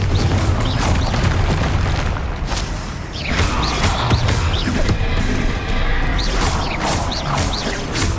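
A Confringo blasting spell in a video game goes off in a run of loud booming blasts and crashing bursts, a dense, rumbling barrage of explosions with sharp pops repeating across the span.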